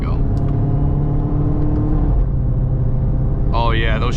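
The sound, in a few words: Dodge Charger Hellcat accelerating hard in track mode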